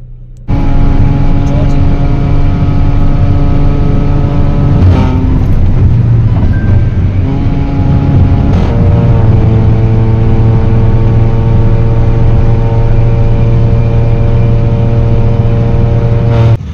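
A car engine starts loud and close, settles into a steady droning idle, then revs hard twice in sharp bursts before holding a high, even whine; the car is at a drift racing event in India.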